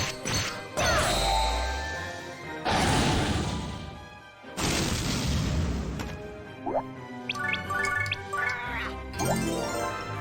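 A big cannon is smashed apart in the tactical RPG Disgaea, with loud crashing impacts and thwacks, metallic dings and tinkling debris layered over game music and effects.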